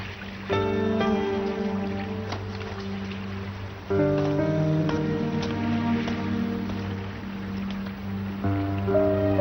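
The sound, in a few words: rain falling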